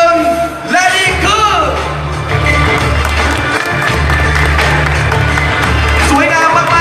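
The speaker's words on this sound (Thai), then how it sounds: "ขอเสียงปรบมือดังอีกหนึ่งครั้งครับ" Crowd applause and cheering at the Honda ADV150 scooter launch event in Thailand, loud and sustained, with a presenter talking over it through a PA system and music beneath.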